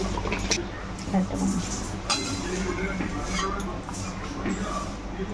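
Chicken curry in red gravy is stirred in a pot, with soft scraping and light metallic clinks over a steady simmering hiss, while a voice talks over it.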